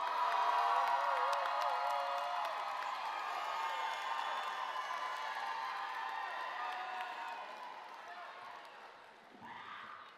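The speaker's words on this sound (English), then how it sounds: "I need you all to make some noise for your families" Graduates at the UC San Diego Harambee Achievement Ceremony cheer and shout for their families, a dense, continuous crowd roar with whoops that stays strong throughout and thins slightly near the end.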